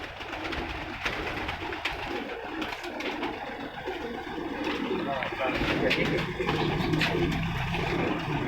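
Record-breed pigeons coo on a rooftop, a steady chorus of low, throaty calls that runs throughout beneath people talking nearby.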